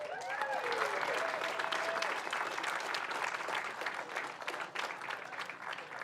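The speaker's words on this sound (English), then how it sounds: "One more large round of applause" A crowd applauds the podium finishers at a Castrol Toyota Formula Regional Oceania Championship race, with dense, sustained clapping that stays loud and slowly eases. A few whistles rise over it at the start.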